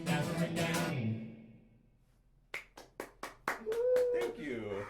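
A small audience at a folk music showcase breaks into a short burst of scattered handclaps after a song, clear and close, with a voice talking before and after.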